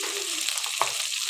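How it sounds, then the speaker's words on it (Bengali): Chopped fresh onion, green chili and raw tomato frying in a pan, a dense close sizzle throughout with one brief stir or scrape partway through. "সব কিছু একটু আলতো করে আমি ভেজে নিচ্ছি।"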